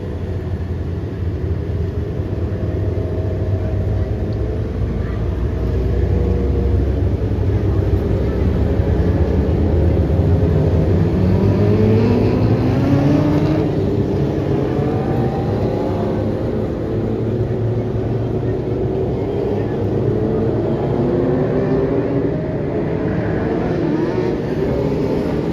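Dwarf cars racing in a 20-lap Sportsman division feature on the Kern County Raceway dirt track at night, a continuous layered engine drone with rising and falling revs as cars circle, heard from a distance.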